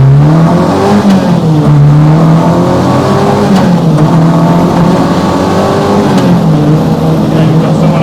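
A rally car accelerates away on a public road into a national speed limit zone, its engine loud and close as the revs climb and fall through several gear changes over a continuous roar.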